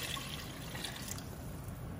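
Water mixed with mushroom brine pours into a pot of cream of mushroom soup, a steady close trickling splash that runs evenly for about two seconds, and no talk.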